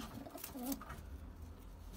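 A double-crested pigeon in a coop gives a soft, brief coo near the start, faint against a quiet background hum.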